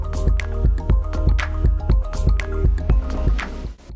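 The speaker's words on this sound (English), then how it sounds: "500-gram chilies. Wash thoroughly 2 to 3 times." Green chilies being washed by hand in water, a close, busy run of drips, splashes and squishy sloshes repeating at an uneven, quick rhythm.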